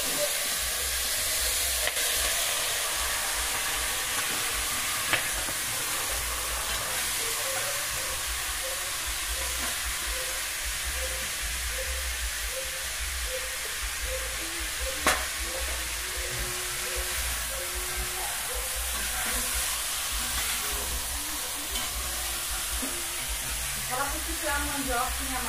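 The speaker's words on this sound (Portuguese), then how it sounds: "frango caipira na panela de ferro, hein? No fogão a lenha." Free-range chicken fries in an iron pot on a wood-fired stove, giving a loud, steady sizzle and hiss that runs throughout with a few sharp pops.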